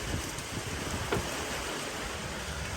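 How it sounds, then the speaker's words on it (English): Steady rain hiss falling outdoors around an EF Ford Falcon under repair, a broad even wash of drops with no break, faint and constant. "And the rain's starting."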